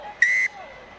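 A referee's whistle ends a Currie Cup rugby match between the Sharks and the Pumas with one short, piercing, steady blast, clear over faint stadium background.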